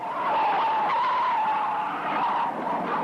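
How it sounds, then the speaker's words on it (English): A big car barrels down a street with its tires skidding and squealing in one loud, sustained screech, joined by the roar of the engine. "look at the big car barreling down the street"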